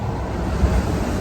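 Wind blows outdoors at a roadside bayou cooking spot, a steady low rumble of gusts buffeting the microphone for the whole short moment.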